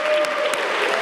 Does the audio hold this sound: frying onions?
no